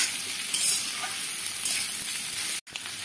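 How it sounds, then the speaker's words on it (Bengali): Ginger stirred into hot oil in a pan with slit green chillies while making a white potato curry, a steady close sizzle with a few faint clinks of the spoon against the pan, briefly cutting out near the end. "এবারে আদাটা দিয়ে আমি একবার নেড়ে নিচ্ছি এটাকে জাস্ট 1 মিনিটের জন্য"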